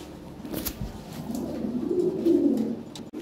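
Lahori pigeons, a breeding pair, coo in a low steady murmur that swells and lingers close by, with a brief flutter of wings near the start.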